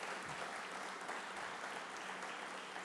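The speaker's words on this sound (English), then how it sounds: "Please give them a big round of applause for their commitment." An audience at a government clean-transportation event gives steady, continuous applause, a uniform wash of clapping from a crowd heard at moderate distance with no talk over it.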